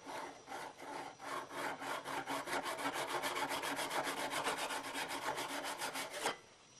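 A steel scraper's edge is rubbed flat back and forth in quick, even strokes, about two dozen rasping passes, close and steady, ending abruptly.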